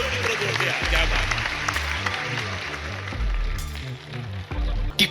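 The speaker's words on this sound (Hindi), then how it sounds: "तालियां बजा दो" Audience applause at a Hindi poetry recital, a steady wash of clapping through the whole stretch with a loud crowd feel and some background voices under it.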